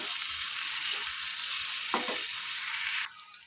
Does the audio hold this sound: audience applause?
no